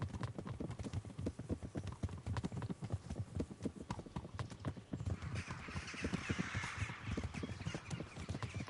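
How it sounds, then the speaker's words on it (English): Horse hoofbeats while riding in Kingdom Come: Deliverance, a steady, fast clip-clop rhythm that carries on throughout at a moderate level, with faint outdoor ambience behind. "Keep running your horse."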